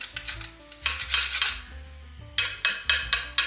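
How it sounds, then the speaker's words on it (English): A spoon stirs banana bread batter with grated nutmeg in a bowl, producing bursts of scraping and clinking against the bowl in uneven strokes, close and fairly loud over soft background music. "I'm simply gonna stir it."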